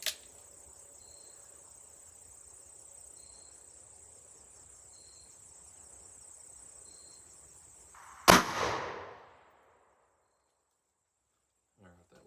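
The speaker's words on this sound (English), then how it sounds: "shot 2 coming up with the Ruger GP 100" A Ruger GP100 .357 Magnum revolver fires a single loud shot of Sierra 158-grain JSP into a clear ballistic gel block at a bench, the sharp crack decaying quickly after a steady background of insect chirping.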